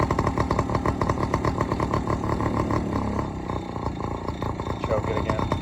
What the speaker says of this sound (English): But it seems to be idling okay.